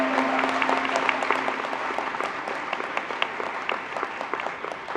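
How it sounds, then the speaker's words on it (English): Audience applause at a SUNY WCC spring commencement ceremony, a dense, steady spread of many hands clapping that holds for the whole stretch, moderately loud and without voices over it. "Clap if you heard your group mentioned."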